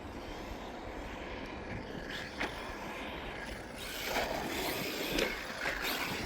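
A Team Corally Kagama 4 4S basher RC car runs outdoors on its first run, its motor giving a steady loud whine with rising surges and brief bumps, no voices.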